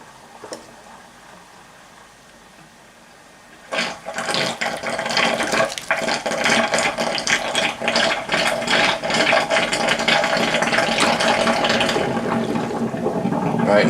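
Water gurgling and rushing down a sink drain after the plug is pulled on soaking gas mask cleaning water, starting abruptly after a quiet stretch and continuing as a steady, close, noisy flow.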